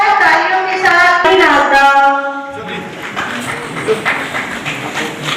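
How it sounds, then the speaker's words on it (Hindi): At a charity food-distribution event, someone speaks over a microphone before an audience breaks into applause, a steady wash of clapping filling the second half. "जोरदार तालियों के साथ"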